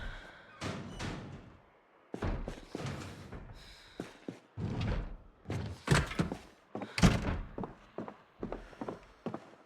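Heavy thuds and bangs in the Project Zomboid video game, as if a door is being slammed and pounded repeatedly, loud, close impacts in irregular bursts.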